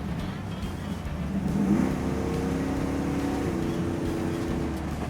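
A 1972 Chevrolet K5 Blazer with a 10L80 gearbox cruising at 60 mph: a steady engine drone and road noise heard from inside the cabin, with a slight swell in engine tone partway through.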